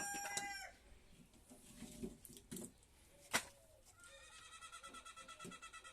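Chickens cluck and a rooster crows at the start, with scattered bird calls and a goat-like bleat, fairly faint and close.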